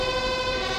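An ambulance siren in a police video game sounds as a loud, steady electronic tone rich in harmonics, holding constant pitch and volume, close and alone.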